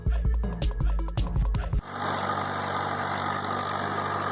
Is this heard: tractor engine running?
yes